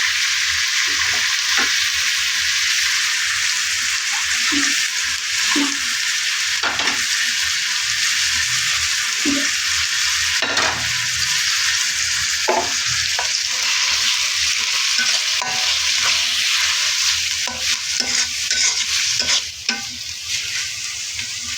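Onions, ginger and garlic fry in a pan for tehari made with beef, a steady loud sizzle running throughout while a spoon scrapes and stirs at intervals, with no one talking.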